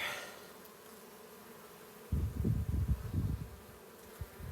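Honey bees buzz near a hive being inspected in early spring, a quiet hum that swells suddenly halfway through into a louder, wavering close drone.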